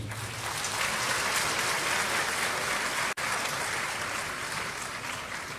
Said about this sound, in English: Please applaud him.